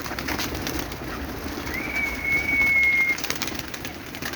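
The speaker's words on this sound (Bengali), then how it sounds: "পাল্লার কবুতর দেখতে পারতেছেন" A pigeon of a high-flying racing breed coos softly and steadily nearby, a low rolling call over faint background noise, with no voices.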